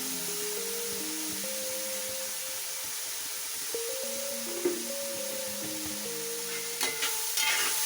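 Sliced onions, three of them with turmeric powder and salt, sautéing for a Kerala-style green pepper chicken curry, a steady close sizzle with occasional stirring scrapes and clinks throughout, no talking.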